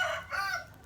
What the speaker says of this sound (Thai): จะมีเสียงไก่ขัน เยอะหน่อยนะคะ เพราะว่าหลังบ้านเป็นเล้าไก่นะคะ